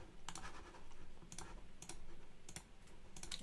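Quick bursts of clicking keystrokes on a computer keyboard, typed in short clusters spaced about a second apart, fairly quiet and close, no voices.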